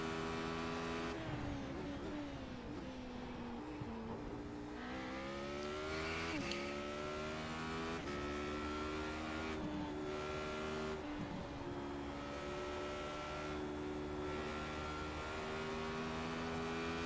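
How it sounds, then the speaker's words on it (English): A race car in a racing video game drones with a sustained engine note as the driver lays off the throttle, pitch sliding up and down through repeated shifts and lifts, steady and close. "I'm basically laying off the throttle as much as I can"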